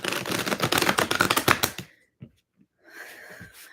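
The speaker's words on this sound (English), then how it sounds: "shuffling for Capricorn now" Rapid riffling shuffle of tarot cards for nearly two seconds, close and crisp, then a pause with a couple of small taps before softer handling resumes.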